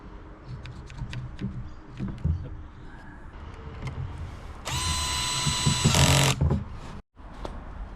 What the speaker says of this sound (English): I'm going to drill down into these guys and get these all set on the corners